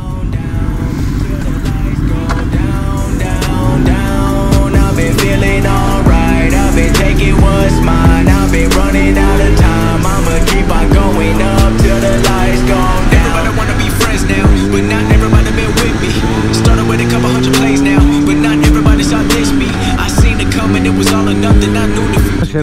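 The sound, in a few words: motorcycle with clip-on handlebars on a wet race track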